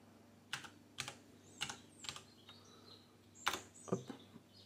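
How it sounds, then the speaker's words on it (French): Quiet, irregular keystrokes on a computer keyboard while typing a search into a web browser. A handful of separate clicks sound alone in a soft room hum. "j'utilise simplement mon clavier pour faire une recherche"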